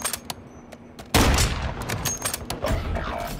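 Gunfire in Warzone, a few sharp distant shots followed by a loud sustained burst of rapid fire and crackling hits, with faint talk underneath.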